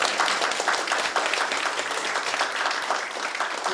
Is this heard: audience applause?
yes